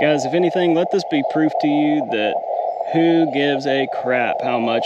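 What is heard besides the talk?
None of the usual background noises is heard.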